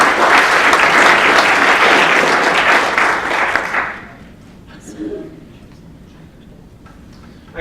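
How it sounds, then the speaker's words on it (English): An audience at a legal panel event breaks into loud, dense applause that holds steady for about four seconds, then cuts off sharply, leaving a quiet room with a few scattered claps and small sounds. "can we give a round of applause for"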